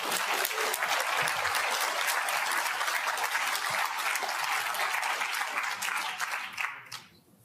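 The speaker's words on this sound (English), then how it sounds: "Can you give Hugo another clap," An audience gives Hugo a sustained round of applause, dense clapping filling a lecture hall before fading out abruptly at the end.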